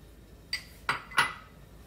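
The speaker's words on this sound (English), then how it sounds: "Let's start by putting that coconut fat or oil into the pan." Coconut fat dropped into a preheated pan on a stovetop, heard as three sharp clinking knocks of utensil against pan spaced about a third of a second apart, close and fairly loud over a quiet kitchen background.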